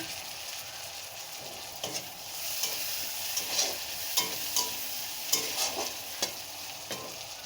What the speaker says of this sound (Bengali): টমেটো কুচি, আর এই যে কাঁচা লঙ্কাটা চালা করে রেখে দিয়েছিলাম ওটা দিয়ে দেব।